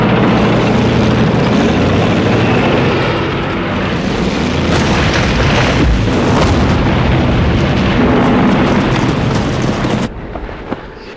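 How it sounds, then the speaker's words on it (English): Dense, continuous roar of a Katyusha rocket launcher barrage in WWII combat footage, booming and rumbling loudly for about ten seconds before cutting off abruptly near the end. "with the rocket launchers they call Stalin's organs"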